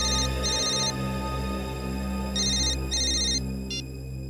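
A mobile phone ringtone plays in repeated bursts of bright electronic tones over a steady background hum and music, loud and close, with no voices.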